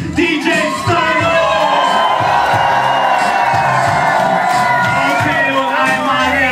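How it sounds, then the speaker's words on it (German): A crowd at a live hip-hop concert in the Denzlingen youth centre cheers loudly throughout, with whoops and shouts layered over a sustained roar of voices. "macht noch einmal Lärm für meinen DJ aus Berlin"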